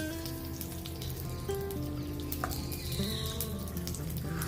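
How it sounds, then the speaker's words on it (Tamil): Mustard seeds sizzle and crackle in hot oil in a pan for a Chettinad-style kosumalli, giving a steady frying hiss with scattered small pops and faint background tones throughout. No speech is heard. "இப்போ எண்ணெய் காஞ்சிருச்சு கடுகை போடுவோம்"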